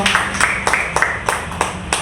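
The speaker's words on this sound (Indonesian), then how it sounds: "Tepuk tangan dulu buat ide-idenya dong" A small group of people claps briefly in a few loose bursts, the light, scattered handclaps rising and falling over about two seconds against a constant background murmur.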